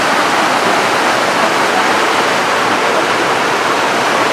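Bhatta Falls, a waterfall near Mussoorie, roars as a loud, steady broadband rush of falling water, continuous and close with no breaks.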